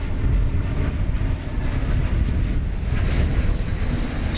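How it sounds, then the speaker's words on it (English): An Airbus A321 airliner arrives at DFW Airport with a loud, steady jet engine roar that swells and holds for a few seconds, with no talking. "Tis an Airbus A321."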